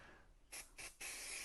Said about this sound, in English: So a little spray just onto the back like that.